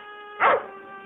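A dog gives a single short, close bark over a faint steady hum and is quiet afterward.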